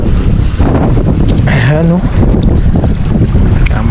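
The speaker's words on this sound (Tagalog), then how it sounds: "Medyo may kalamigan dahil malakas po yung hangin." Strong wind roars over a boat at night, a loud steady low rumble buffeting the microphone throughout, with someone speaking briefly over it.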